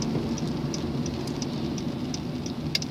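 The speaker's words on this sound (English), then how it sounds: "It's super rainy today." Steady rain falls outside on a very wet day, a dense continuous hiss with scattered louder drips throughout.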